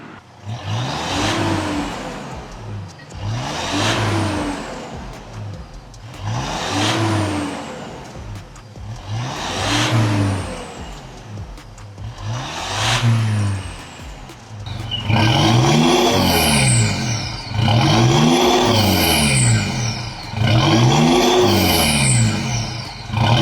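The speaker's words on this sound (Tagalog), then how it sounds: "ngayon nakapalit na yung full exhaust using our products, Spitfire Thunder muffler at Spitfire tip" Mitsubishi Montero Sport fitted with a Spitfire Thunder muffler, Spitfire tip and full exhaust, revving repeatedly in loud, evenly spaced bursts, first five rises then a harsher, busier stretch of revs, with no talking.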